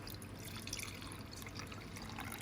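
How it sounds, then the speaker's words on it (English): Beef broth trickles softly into a small amount of cornstarch for a Salisbury steak sauce, a faint, steady liquid pour heard close and alone. "we're going to mix it with half a cup of the beef broth"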